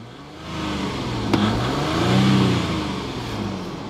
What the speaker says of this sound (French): Un putain de V6 qui fait un bruit.